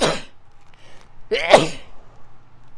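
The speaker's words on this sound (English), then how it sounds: "I'm going to sneeze, pardon me." A single sharp sneeze, loud and close, preceded by a brief breathy intake.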